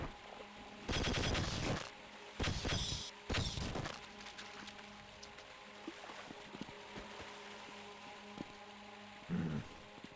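Bursts of gunfire in Half-Life, several loud broadband volleys clustered between about one and four seconds, then a quieter hum with a brief final burst near the end.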